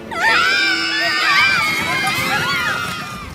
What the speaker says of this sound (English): Screams of delight is what your princess desires, not screams of terror.